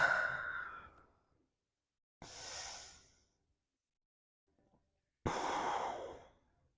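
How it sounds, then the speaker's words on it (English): Three deep, slow breaths during a hip mobility exercise, each a loud, airy exhale or sigh separated by near silence, close to the microphone. "Deep inhale and exhale."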